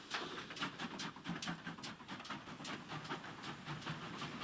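A GWR steam locomotive pulls away on the Cheddar Valley branch line in 1950s archive recording, giving steady rhythmic chuffs with hiss and rail clatter, faint and somewhat distant, with no talking.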